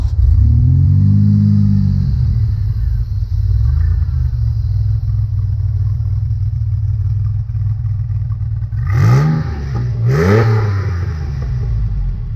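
A DeLorean with a Bosch K-Jetronic fuel-injected engine cranks and fires, then settles into a steady, loud, close idle, with two sharp revs of the throttle near the end.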